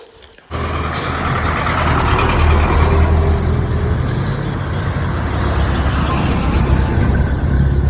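A jeep engine labours loudly up a steep mountain road in rural Nueva Vizcaya, a deep steady truck-like roar that starts abruptly after a brief quiet moment and holds strong throughout.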